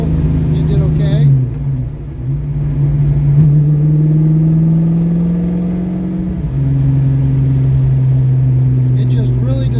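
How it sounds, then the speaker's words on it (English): A carbureted car engine pulls hard at full throttle in third gear, a loud, steady drone that rises in pitch and dips briefly at one point before climbing again, heard from inside the car with a voice over it. "there's a full throttle 3rd gear pull"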